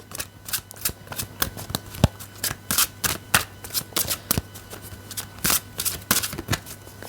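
Oracle cards riffled and shuffled for a weekly animal-oracle reading, a steady run of crisp papery flicks and snaps close to the mic, with no one speaking.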